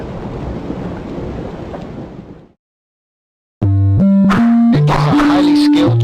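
Steady rain hisses for a couple of seconds and cuts off to silence, then loud synthesized tones play in stepped notes, in the PC video game Dracula VS The Ninja On The Moon.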